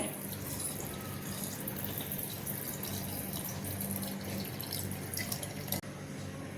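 Water poured over garmar roots with turmeric and salt until the roots are submerged, giving a steady, close splashing and trickling rush that runs evenly and breaks off sharply near the end.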